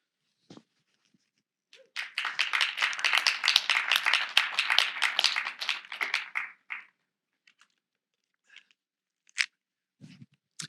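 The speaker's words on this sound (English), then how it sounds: "Thank you so much for the applause" A small audience at a poetry night claps for about five seconds, a burst of close, crisp handclaps that swells and then trails off into a few scattered claps and quiet.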